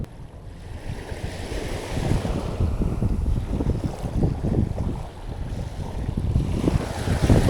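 Sea breeze buffets the microphone while waves wash and surge at a Mumbai fishing spot, a constant roaring rush that swells and fades without any voices.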